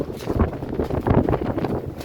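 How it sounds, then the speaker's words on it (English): Low, blustery rumble of wind buffeting a microphone, steady and fairly loud throughout with no voices. "I'm sorry for the wind, it's really windy"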